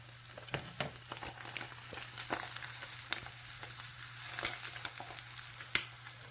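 A vegetarian omelet fries in a pan with a steady, quiet sizzle and scattered soft pops and crackles, close up, with a low constant hum underneath and no voices.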